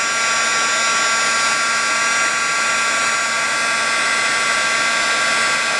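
A heat embossing tool blows steadily and loudly on a Christmas ornament card, a constant whirring roar that runs unbroken throughout with no talking.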